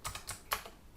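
Quick keystrokes on a computer keyboard, a handful of close, crisp clicks in an uneven burst with one louder tap near the middle, no voices.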